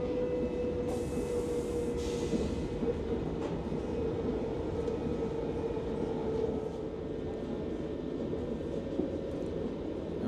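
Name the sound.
train at station platform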